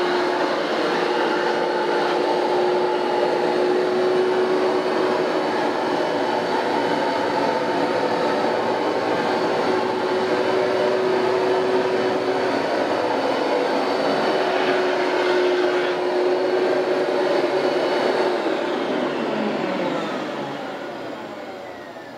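A carpet cleaning extraction machine runs with a loud, steady roaring whine and a sustained tonal hum throughout, tapering off slightly at the end.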